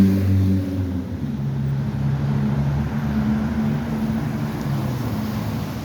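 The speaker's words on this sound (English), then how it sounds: "Let's see how many cars travel in this lane here." Cars and other vehicles driving in a city street lane, a steady low engine drone with a passing vehicle swelling nearby at the start, continuous traffic rumble without talk.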